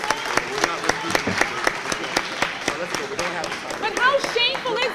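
An audience gives scattered applause, a series of distinct claps in a loose rhythm with voices talking over and around them.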